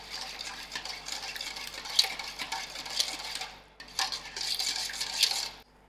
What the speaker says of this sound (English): I will give this a nice mix.